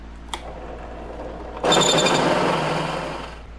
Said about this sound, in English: Let's drill out this hole.